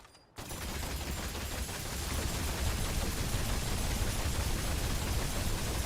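A weapon in the video game Remnant 2 fires continuously, a dense unbroken roar of rapid gunfire that starts abruptly after a brief quiet moment and holds at full loudness throughout.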